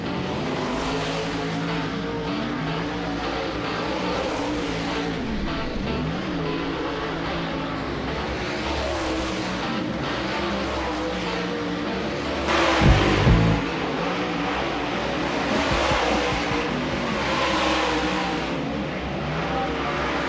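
World of Outlaws dirt late model race cars running hot laps at Norman County Raceway, several engines roaring and revving with rising and falling pitch. A louder, closer burst comes around the middle, then a steady pack drone.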